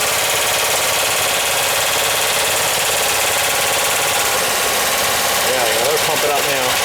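A VW Westfalia (Westy) camper van engine cold-starting after a cylinder head replacement runs with a steady, loud, rough broadband roar and a rapid knocking chatter, while a voice speaks faintly under the mechanical noise.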